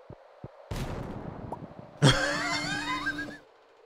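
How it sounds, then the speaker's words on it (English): An explosion in Stardew Valley bursts out as a short, sharp blast with a crackling, ringing tail that fades over about a second and a half, preceded by a few small taps and a softer thump. "I just heard an explosion"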